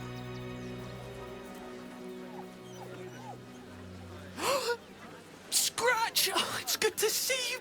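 The Sword Coast Couriers dog, Scratch, in Baldur's Gate 3 gives a short whimper, then a run of sharp barks over quiet background music, fairly close and growing louder toward the end.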